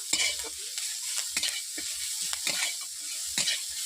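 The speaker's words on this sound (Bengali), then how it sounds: "পেঁয়াজটাকে বেশি বেশি ভাজবো না, হালকা করে ভেজে নেব।" Onions frying in a pan with a little salt give a soft, close sizzle broken by repeated scrapes and taps as a spoon stirs them, with no voices.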